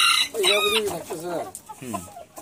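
A rooster of a fighting breed crows loudly and nearby on a chicken farm, its long rising and falling call followed by softer clucking sounds.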